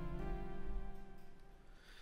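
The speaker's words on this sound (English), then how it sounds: "we're going to hear a bright pop bell." A single bright pop bell preset note plays from a software synthesizer in Cubase, triggered by a keyboard press. It is a clear, ringing tone with harmonic overtones that decays gradually over about two seconds, faint and alone.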